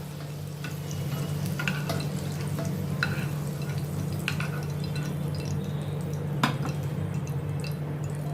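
Curry leaves fry in a pan with a steady close sizzle and a low hum. Occasional light clinks and stirring scrapes sound over it, and no one speaks.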